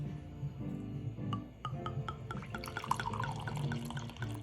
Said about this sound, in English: pour myself a glass of wine here